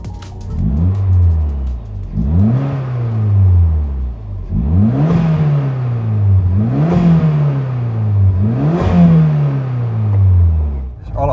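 A Toyota Celica GT-Four engine revs repeatedly, about five sharp rising blips each falling back to idle in a regular rhythm, loud and close.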